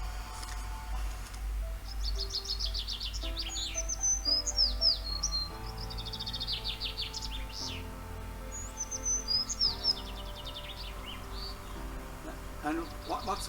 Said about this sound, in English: It's a sparrow.